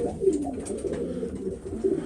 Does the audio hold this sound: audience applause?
no